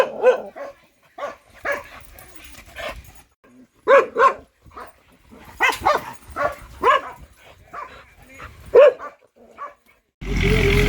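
Several dogs bark repeatedly at a strange dog on their premises, loud and close, in irregular bursts with yips and whimpers between them.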